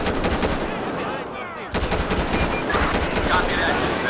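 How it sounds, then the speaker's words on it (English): Gunfire in GTA 5 with a police mod, aimed at the player: rapid, continuous automatic shots rattle densely and loudly throughout, with a brief dip partway through. "there's somebody shooting me on my back"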